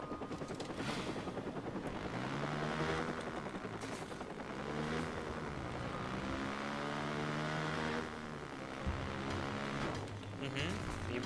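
A motorcycle engine in the Watch Dogs video game revs repeatedly, rising and falling in pitch as it accelerates. The engine stays loud and continuous throughout, with a voice talking over it.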